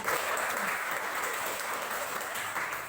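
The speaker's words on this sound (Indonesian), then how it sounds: "Tepuk tangan kalau demikian." Students applauding in a classroom, steady broadband clapping filling the short stretch at moderate loudness without any talk.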